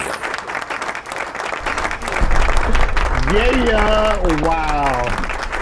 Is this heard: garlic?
no